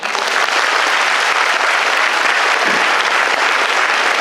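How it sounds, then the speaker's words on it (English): A quiz audience bursts into loud, dense applause, continuous and sustained throughout with no pause or letup. "The louder you clap, the better we know."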